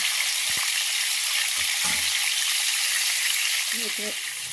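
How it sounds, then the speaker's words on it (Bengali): Potato pieces fry in hot oil in a karahi, a steady close hiss of sizzling fat filling the whole stretch, with a few soft knocks and scrapes as the pieces are turned over. "আলুটা উল্টে পাল্টে ভেজে নিয়েছি।"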